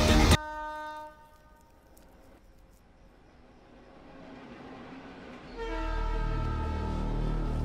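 A train passes with a loud horn blast at the start, then a quieter rumble of rolling wagons that builds again into a close, steady roar with another sustained horn.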